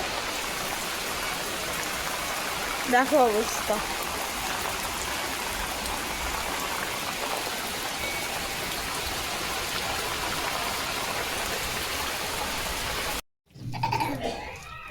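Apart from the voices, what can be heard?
heavy rain pouring outside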